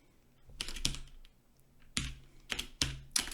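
Typing on a computer keyboard, close-up bursts of sharp key clicks in short irregular clusters separated by quiet gaps, fairly soft overall.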